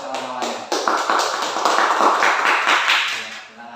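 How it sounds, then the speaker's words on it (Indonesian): Classroom applause for classmates, a burst of many hands clapping that starts after a brief pause, builds and holds steady for a few seconds, then tapers off. "Tepuk tangannya buat kawan-kawannya."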